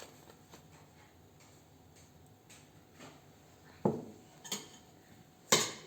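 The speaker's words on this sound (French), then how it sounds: "Mélanger un petit peu avec la cuillère." A spoon mixes egg into orange and cinnamon sablé biscuit dough in a bowl, giving faint, scattered taps and soft scraping, then a few sharper clinks against the bowl.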